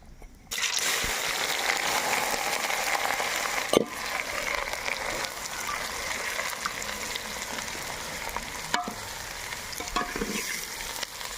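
Mustard seeds and cumin sizzle steadily in hot oil, a dense close crackle with brief stirring scrapes and occasional sharp pops throughout.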